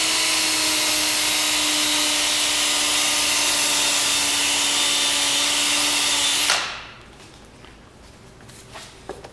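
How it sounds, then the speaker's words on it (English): A power polisher whirs steadily on a car body panel, buffing out nylon tap-down marks after paintless dent repair of a crease. The high whine runs loud and constant, then spins down and stops, leaving quiet handling noises. "I'm gonna polish up any of the tap-down marks from my nylon tap-down"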